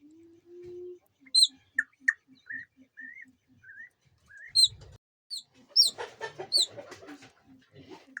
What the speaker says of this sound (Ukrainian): Курчатко пищить.